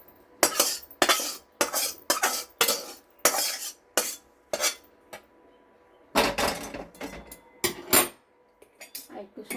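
In a home kitchen cooking pumpkin greens, a kadai and utensils clatter in a series of sharp metallic knocks and scrapes, a dozen or so bursts with brief quiet gaps between them.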